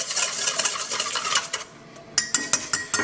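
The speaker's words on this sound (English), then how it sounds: "I'm going to crack my egg and beat it in here" An egg is beaten in a bowl that already holds bread soaked in milk, giving rapid scraping and clinking of utensil on the bowl, then a few sharp, evenly spaced taps near the end.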